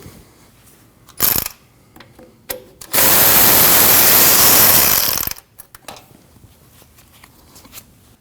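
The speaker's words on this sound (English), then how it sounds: "Now we need to remove this 10mm bolt" A 10mm bolt is removed near the alternator of a 2012-2021 Nissan NV2500 5.6L V8, with a couple of short metallic clicks, then a loud sustained power-tool whir for about two seconds, followed by faint rattling clicks.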